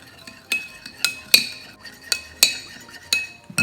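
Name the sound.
spoon stirring and mixing ingredients together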